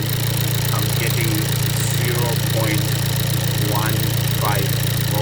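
A car engine idles during a throttle body wiring test, a steady low hum with a continuous drone throughout while someone talks over it.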